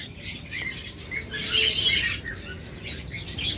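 Pet birds for sale, including cockatiels, budgerigars and doves, chirping and squawking in overlapping bursts, a busy close chorus of calls with no talk.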